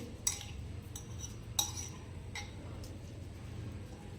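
Spiced soda water being stirred in a bowl for jeera masala soda, a spoon clinking against the bowl in several light, separate taps over a quiet background.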